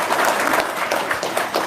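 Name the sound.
audience applause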